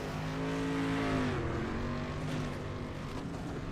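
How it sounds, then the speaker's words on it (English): A dirt-track street stock race car drives around after the checkered flag of a 125-lap endurance race, its engine droning loud and steady with a drawn-out tone that shifts in pitch. "Dylan Cool driving that car around, smashing here after the checkered flag"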